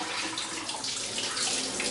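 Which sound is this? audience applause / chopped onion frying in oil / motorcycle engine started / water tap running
water tap running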